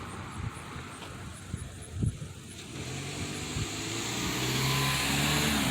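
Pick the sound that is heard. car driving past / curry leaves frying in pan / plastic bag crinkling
car driving past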